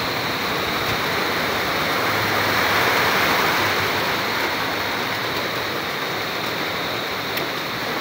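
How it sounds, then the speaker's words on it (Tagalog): Heavy rain falls in Biliran as a constant, loud wash of broadband noise with no pauses and no other sounds standing out. "Ang lakas ng ulan, guys."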